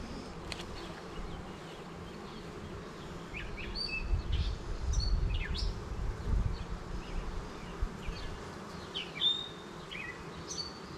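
Honeybees buzz around honeybee hive boxes as honey supers are added outdoors, a steady close hum with individual bees droning past, and faint bird chirps in the background.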